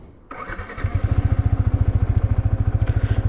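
A motorcycle engine catches after a brief crank, then settles into a loud, close, rapid rhythmic idle and revving ahead of a burnout, running steadily alone to the end.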